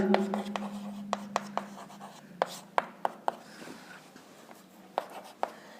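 Marker or chalk tapping and scratching on a board in a maths class, a series of sharp strokes and clicks at an uneven pace, with a voice heard faintly under them.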